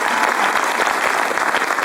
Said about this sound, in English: Can we make a round of applause for that?